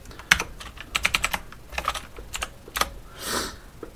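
Rapid clicking keystrokes on a computer keyboard, typed in short uneven bursts with brief pauses, close and clear with no voices.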